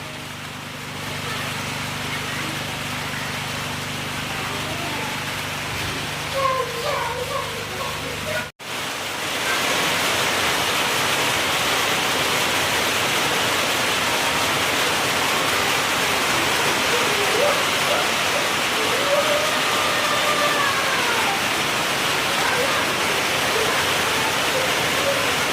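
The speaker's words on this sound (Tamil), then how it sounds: "மழை வந்துடுச்சுங்க. மழை இப்போ தான் வருது." Heavy rain pours down in Kodaikanal, a loud, steady broadband hiss that lasts throughout, with a brief dip partway through before it resumes at full strength.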